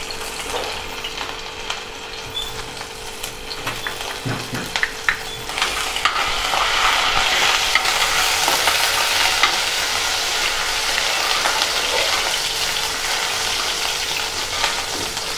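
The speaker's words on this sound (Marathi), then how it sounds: "इथे आपलं तेल गरम झालंय, यामध्ये आपण थोडे अद्रक लसूण पेस्ट घालूया" Ginger-garlic paste fries in hot oil in a kadhai, a steady close sizzle that swells louder after a few seconds and holds, with faint stirring scrapes and no talk.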